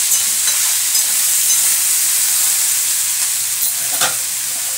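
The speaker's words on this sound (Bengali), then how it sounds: "এভাবে ঢাকা দিয়ে দিয়ে ভাজছি।" Potatoes and slit green chillies frying in a covered pan for a potato curry, a loud, steady, dense sizzle that fills the whole clip with no break, close by and alone.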